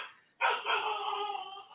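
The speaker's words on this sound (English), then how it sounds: "Sorry, that is my dog." A dog nearby gives one sustained, whining bark-like yelp that holds steady for over a second after a brief quiet start, heard alone without talk.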